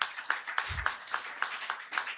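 Clapping at a live leadership clinic gathering comes as a sparse, rhythmic series of distinct claps, roughly three per second, fairly close, with a brief low thump partway through.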